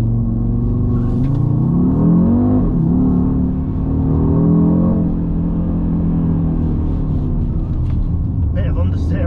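A 2020 Audi RSQ3 with a 400 hp 2.5-litre five-cylinder engine pulls hard on a road, its low rising growl steady and close with brief dips, while people talk over it inside the car.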